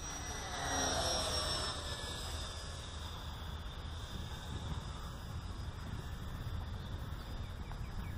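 A T-45 Goshawk radio-controlled model jet with a 70mm electric ducted fan and 2600kv motor flies at 40% throttle, a steady whooshing whine that swells briefly early on, then holds level and moderately distant for the rest.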